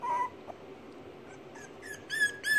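A four-week-old female French bulldog puppy gives thin, high whimpers and yips, a faint one at the start and then a few louder cries close together toward the end.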